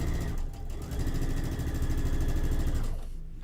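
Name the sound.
sewing machine stitching quilt pieces together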